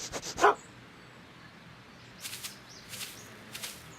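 A dog in the Back to the Future video game gives a few quick barks, then after a pause several sharper, lighter yips, all over a quiet background.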